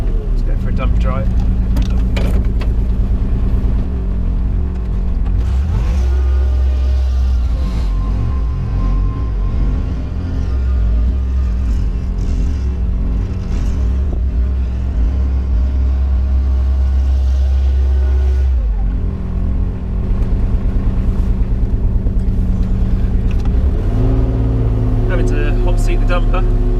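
A dumper truck's diesel engine drives steadily on a sunny building site, a loud continuous mid-pitched chug that holds for most of the stretch, dips briefly, then picks up again near the end.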